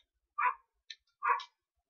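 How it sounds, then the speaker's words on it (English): Faint dogs give two short barks about a second apart, with a small yelp between them, in a quiet room. "Just because your dogs are barking."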